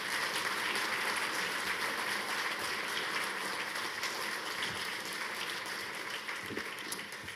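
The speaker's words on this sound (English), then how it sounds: "Can we give the majority leader another round of applause?" Sustained applause for the majority leader at a student excellence award ceremony, a thick continuous crowd clapping that holds steady throughout and fades only a little near the close.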